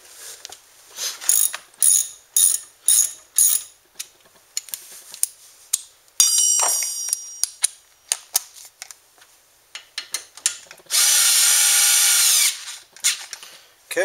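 Lower brake caliper slide bolt on a Ford Focus being tightened by hand tool during a brake pad and rotor job: a series of sharp ratcheting clicks in bursts, a metallic rattle, then a steady whirring burst near the end.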